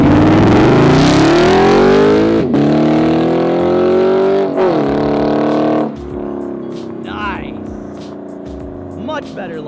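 A straight-piped Lexus RC F launches at full throttle, its engine roaring loudly as revs climb through the gears with sharp shift breaks, then fading as the car pulls away into the distance.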